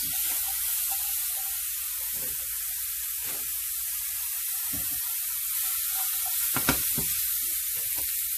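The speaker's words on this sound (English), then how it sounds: "you're gonna add your codfish." Saltfish (codfish) fries in a small amount of oil for Jamaican ackee and saltfish, giving a steady hiss with scattered crackles and one sharper spit near the end, heard up close without voices.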